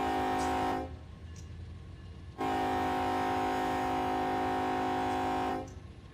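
A freight train moving in the Run 8 train simulator game on a Pittsburgh route sounds two long, loud horn blasts over a steady low engine and rail rumble, with a brief quieter stretch between them and no talking.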